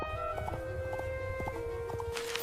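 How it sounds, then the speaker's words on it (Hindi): Cartoon horse hooves clip-clop in a steady trotting rhythm as the horse carries its rider toward a forest, moderately close under a sustained musical drone, with no talking. "मॉरिस अपने घोड़े पर सवार होकर जंगल की ओर गया"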